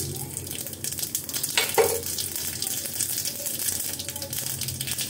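Mustard seeds and urad dal crackle and sizzle steadily in hot oil while tempering a chutney, a continuous close frying hiss with a brief louder spatter partway through.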